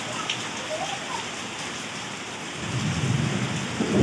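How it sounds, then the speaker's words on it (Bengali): Heavy, steady downpour during a thunderstorm, with gusty wind and a low rumble of thunder swelling near the end, close and loud with no voices. "সাথে মুষলধারে বৃষ্টি, মাঝে মধ্যে বাজও পড়ছে।"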